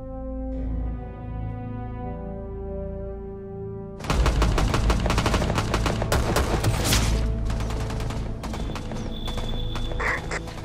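Rapid automatic gunfire and single shots burst out loudly in a TV drama firefight, dense and continuous after a tonal musical intro, with sharp cracks stacking over a low rumble.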